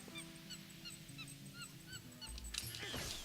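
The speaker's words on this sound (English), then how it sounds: "Alright, geese, I can see you." Geese honk repeatedly in Zelda: Twilight Princess HD, a steady series of short nasal calls over game ambience and a low background hum, with a louder rustling burst near the end.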